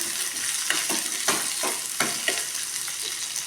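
Onions and green chillies sizzle in hot oil in a pan while a spoon stirs them, a steady close crackle punctuated by several scraping stirring strokes, with no talk.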